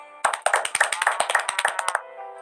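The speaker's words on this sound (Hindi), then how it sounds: "सभी लोग अपने लिए एक बार जोरदार ताली बजाएं।" A small group claps together briefly, a quick flurry of close, sharp hand claps lasting under two seconds before stopping.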